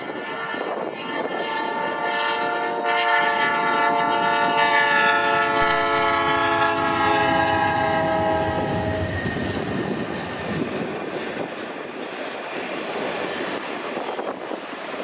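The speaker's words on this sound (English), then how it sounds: "NS 205 was led by something special, an ex-Conrail, now Illinois Central-8W" Norfolk Southern freight NS 205, led by an ex-Conrail Illinois Central 8W locomotive, sounds a long multi-tone horn while rumbling close by on the Chicago line, then rolls on with heavy wheel noise.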